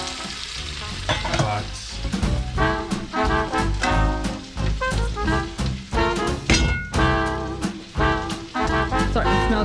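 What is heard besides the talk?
andouille sausage searing in a pan for gumbo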